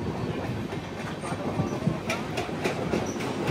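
Navajeevan Express, the Chennai Central to Ahmedabad train, rolling along with a steady rumbling roar and faint rhythmic wheel clatter close by, with brief high metallic squeals now and then.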